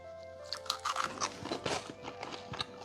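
Someone bites and chews a crunchy baked good made with applesauce as an egg substitute, producing close, irregular crisp crunches over a steady faint hum, with no talk.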